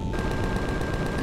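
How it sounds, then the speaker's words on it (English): Cannon turrets fire on drones in the Empyrion Galactic Survival video game, a rapid regular burst of gunfire with about a dozen shots over a steady electronic hum. "Look at a cannon turret opening up on the Xerax drones."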